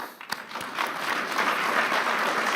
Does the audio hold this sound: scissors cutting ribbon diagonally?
no